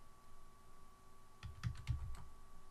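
A short run of quiet keystrokes on a computer keyboard, about half a dozen soft taps near the end over faint electrical hum, no speech.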